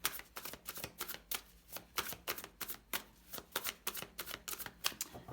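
A deck of tarot cards is shuffled by hand, a quick run of crisp, close riffling flutters repeating in a steady rhythm with no talking.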